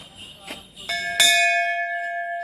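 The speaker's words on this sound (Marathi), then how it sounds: "ही घंटा वाजव ग" A temple bell in Matheran rings with a few quick metallic strikes in close succession, the last one loudest, leaving a bright, shimmering ring that slowly fades nearby.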